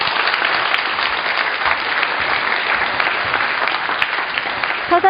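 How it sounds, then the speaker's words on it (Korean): Sustained audience applause at a televised Korean city communications talk, dense and even clapping filling the hall loudly for several seconds without any speech. "박수 부탁드립니다."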